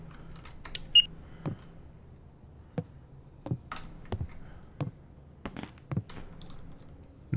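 Computer keyboard keys struck sporadically, a scattering of sharp single clicks and taps at irregular intervals, close and fairly crisp over a quiet background.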